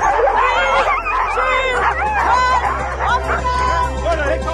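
Huskies gathered at a racing event in Wales bark, yip and whimper excitedly in a loud, overlapping chorus, with a low rumble underneath throughout.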